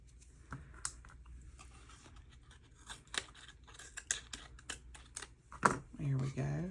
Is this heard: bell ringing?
no